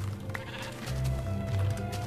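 A sheep in Minecraft bleats twice in quick succession, fairly close and moderately loud, over a faint game background.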